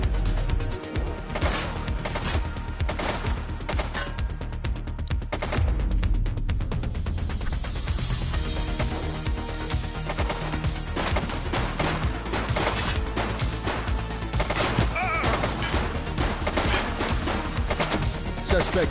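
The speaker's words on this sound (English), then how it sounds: "He's shooting!" Dense, continuous gunfire from a suspect shooting during a street patrol in the video game The Precinct, loud rapid bursts over a busy mix of game sounds.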